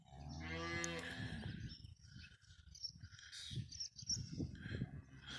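A cow of about 1,000 pounds lets out a long, loud, drawn-out moo on a farm at sunset where calves are being checked, followed by quieter rustling, with insects chirping faintly in the background.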